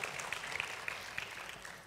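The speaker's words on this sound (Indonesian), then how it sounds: "Shall we give Jesus a clap offering?" Congregation in a church clapping together, a faint, brief patter of scattered claps with a few sharper hand strikes standing out.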